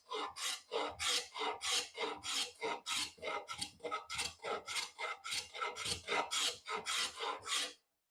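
Hand plane taking thin, slightly wide shavings off a wooden board, heard as a steady run of about twenty rhythmic rasping strokes, close and fairly loud, each a quick hiss, with no talking.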